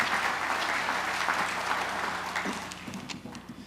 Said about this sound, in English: Ladies and gentlemen, your applause, please, for a valued Space Florida partner